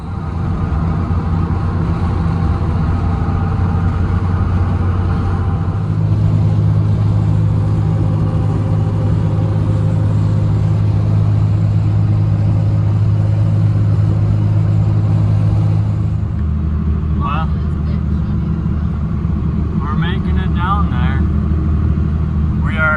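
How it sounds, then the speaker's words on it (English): A pickup truck with a trailer hitched idles in the dark at 3 a.m., a steady low engine rumble that shifts in pitch partway through, with people talking over it. "Got the truck going."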